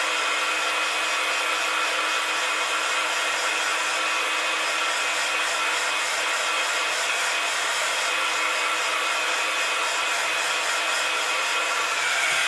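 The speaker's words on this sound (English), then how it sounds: "Just want to dry this a bit so I can put the next bit on that I want to put." Hair dryer blowing on glued craft card, a loud, steady, close-up whooshing hiss that holds unbroken from start to finish.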